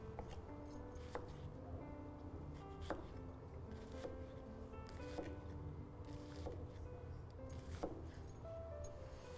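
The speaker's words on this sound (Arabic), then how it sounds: "نقطع بس البصل، نقطعه صغنون صغير" Onion is chopped into small pieces with a knife on a board, giving a string of faint, irregular taps over a low steady background hum.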